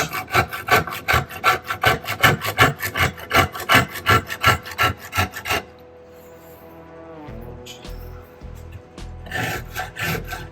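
A Surform-type rasp shaves the edge of a wooden P90 guitar neck in steady, rhythmic rasping strokes, about two per second, loud and close, then stops, followed by quieter handling and a few more strokes.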